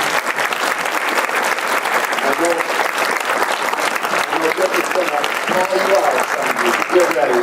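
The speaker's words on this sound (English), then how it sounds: "Let's give those donors a round of applause for their generosity." Steady, sustained applause from an audience at a film premiere, honoring donors, with warm crowd clapping filling the space throughout.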